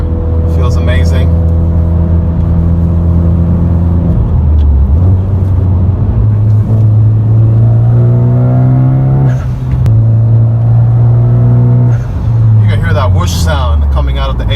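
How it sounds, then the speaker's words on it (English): A 2013 Hyundai Genesis Coupe R-Spec with an HKS blow-off valve revs up and down close by, its engine tone climbing and dropping, with short hissing bursts between the pulls. "Sound coming out of the HKS blow-off valve that Dave has in this car"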